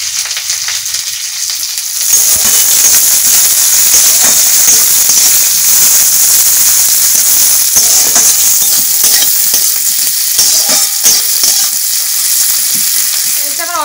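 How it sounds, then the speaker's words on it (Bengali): After two seconds of near silence, chopped onion with nigella seeds and split green chillies hits hot mustard oil and erupts into a loud, sustained sizzle, with occasional stirring scrapes. "পেঁয়াজটা আমার অর্ধেক ভাজা হয়ে গেছে"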